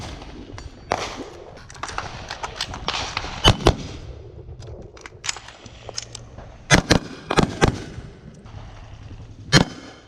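Gunshots crack on a shooting range after a fire command, sharp loud reports coming in irregular bursts with a few quick doubles and echoing tails over a quiet outdoor background.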